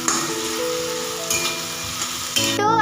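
Potato pieces fry in a pan, a steady sizzle running alone throughout, with a louder burst of crackling near the end.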